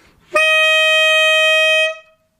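A single sustained high C on a reed instrument, bright, open and ringing with rich overtones, held steadily for about a second and a half before stopping.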